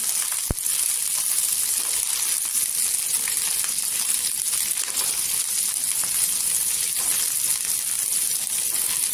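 Capsicum and onion sautéing in oil in a pan, a soft continuous sizzle with a sharp clink near the start and faint scraping stirs, close and steady without speech.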